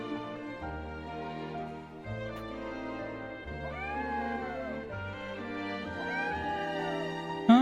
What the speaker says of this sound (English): And there goes the little kitty cat.